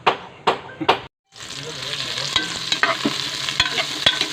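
Aromatics sautéing for native chicken tinola, a dense close sizzle and stirring rattle after a few sharp scraping clanks at the start, with faint talk in the background.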